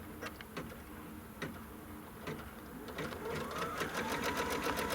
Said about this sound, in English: And then it's going to stitch the tack down.